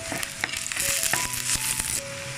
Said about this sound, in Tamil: வெங்காயத்தை நல்லா கலர் மாறுற அளவுக்கு நல்லா வதக்கிக்கோங்க